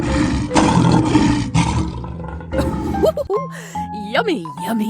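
A loud lion roar from a 3D animal video game, rumbling low and broad for about two seconds, then giving way to cartoonish sliding and whooshing effects with music-like tones.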